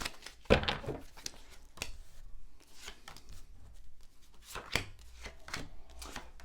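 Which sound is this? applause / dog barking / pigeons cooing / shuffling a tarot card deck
shuffling a tarot card deck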